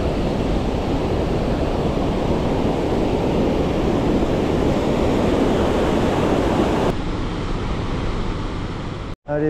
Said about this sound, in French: Allez, première cascade checkée